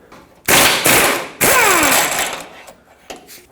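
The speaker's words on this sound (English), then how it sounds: "Let's take the 19mm headed bolt out, then try to punch out that sleeve." Impact wrench removing a 19mm bolt from the front lower control arm of a 2003-2009 Toyota 4Runner, two loud close bursts of hammering with a whining spin-down between them.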